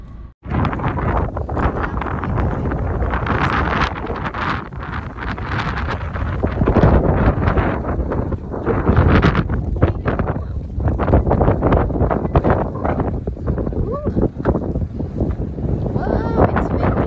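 Strong wind blows outdoors at Al Hudayriat, buffeting the microphone with a loud, gusty roar that persists throughout while people talk over it.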